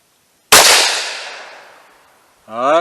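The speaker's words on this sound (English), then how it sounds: "I'm gonna shoot for that big black upper left target there." A Ruger American Rimfire .22 WMR rifle fires one sharp, loud shot outdoors at a range, its report decaying over about two seconds before a voice begins speaking.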